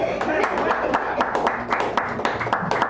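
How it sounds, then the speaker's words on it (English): Cafe poetry audience in San Francisco clapping for a performer, a modest scatter of separate hand claps in loose rhythm, close and distinct, with voices talking over them. "Can we clap for this guy?"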